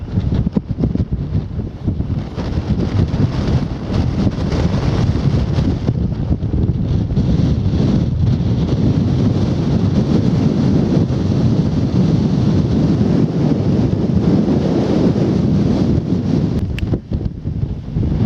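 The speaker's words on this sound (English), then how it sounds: "Very windy up here. Sorry about the interference." Strong wind buffets the microphone continuously on a hilltop in the Church Stretton area, a loud rough rumble with gusty surges and no voices.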